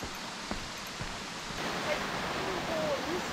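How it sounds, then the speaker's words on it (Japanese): A babbling mountain stream on a hiking trail on Ryuo-san near Osaka, a steady broadband rush of flowing water filling the whole clip, soft and continuous with faint bird calls over it. "このせせらぎの音が聞こえてすごく気持ちがいい"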